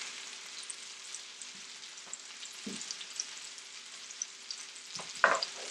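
Breakfast potatoes frying in a pan, a steady soft sizzle with a few light scrapes and one louder stir-and-clatter near the end, no voices.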